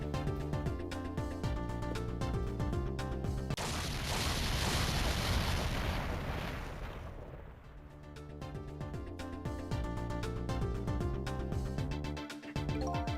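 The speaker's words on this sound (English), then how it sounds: "I think I heard an explosion somewhere." Explosion in the video game Ghost Trick: Phantom Detective, a broad rumbling burst lasting several seconds that cuts through the looping game music, then fades as the music returns.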